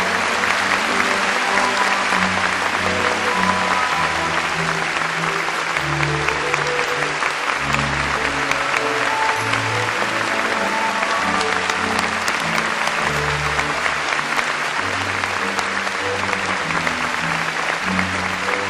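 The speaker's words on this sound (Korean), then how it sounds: "힘찬 감사의 박수를 올려주시기 바랍니다" A ceremony audience at the Seonghwa memorial event claps loudly and steadily for the whole stretch as flowers are presented, with music faintly underneath.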